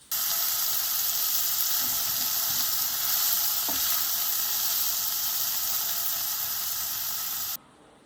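A pan of tomato puree, maple syrup and soy sauce sizzles in a loud, steady broadband hiss with faint stirring taps, holding for about seven seconds before cutting off abruptly.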